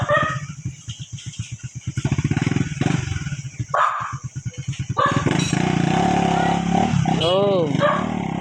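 A motorcycle pulls away under rhythmic dog barking and voices, its engine note swelling and then sweeping off into the distance.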